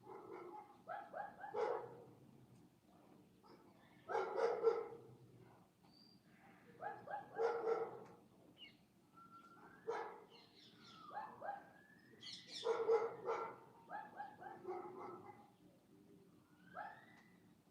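A dog barks in short bursts near a property, repeated clusters of barks with brief pauses between them, moderately distant, while birds call faintly in the background.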